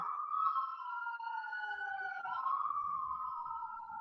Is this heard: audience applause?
no